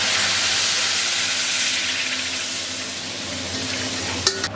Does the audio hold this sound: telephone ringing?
no